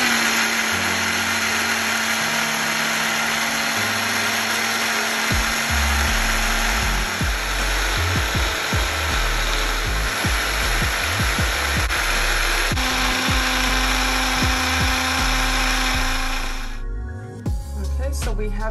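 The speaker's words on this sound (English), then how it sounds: "I'm gonna go ahead and blend this up so you can see." A countertop blender whirs loudly and steadily, blending avocado, cucumber and dill into a creamy salad dressing, with the motor pitch shifting as the mixture churns before it stops near the end.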